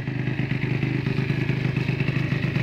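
An Aprilia SR 50 scooter with a freshly overhauled engine and refurbished exhaust, running right after its first kick start: a close, rapid, even two-stroke putter and clatter at idle, heard alone.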